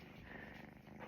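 A kitten purrs softly and continuously, a close, low rumbling hum with a gentle steady rhythm and no voices.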